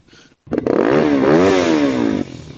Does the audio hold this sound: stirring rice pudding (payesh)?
no